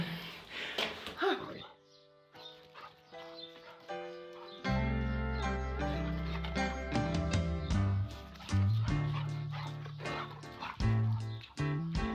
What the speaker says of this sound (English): And this is one happy dog who's just had his cone removed.